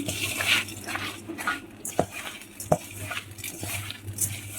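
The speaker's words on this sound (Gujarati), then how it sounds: "હવે બધું આપણે હાથથી આમ મિલાઈ લઈશું" Hand-mixing of spices and ingredients for Gujarati patra batter in a bowl, with soft squelching and stirring punctuated by a couple of sharp clinks against the dish, close and moderately quiet.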